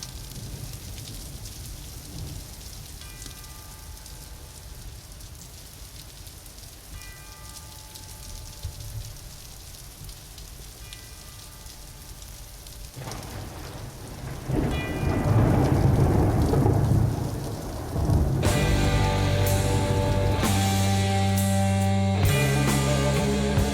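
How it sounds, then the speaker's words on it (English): Steady rain pours through the opening of a song, with a dark, dreary nighttime mood; slow tolling tones ring faintly over it before a loud rolling thunderclap and heavy instruments swell in near the end. "Starting with the rain, man, setting with the thunder, the dreary nighttime almost type atmosphere."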